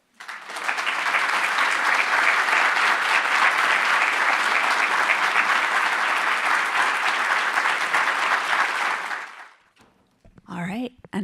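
Audience applause after a talk at a World Usability Day 2018 event, a steady loud wash of many clapping hands lasting about nine seconds before fading, followed briefly by a voice speaking.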